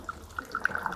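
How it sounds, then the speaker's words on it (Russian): Boiling water is poured into the water tank of a portable espresso maker, giving a faint, close trickle with light dripping plinks that grow busier toward the end; no talking. "Добавьте кипяток в емкость для воды."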